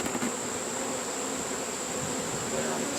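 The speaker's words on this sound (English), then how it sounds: "we've still got some bees in here" Honeybees buzz around a swarm trap on a breezy day, a dense, continuous hum close by with a steady high whine running through it, and no voices.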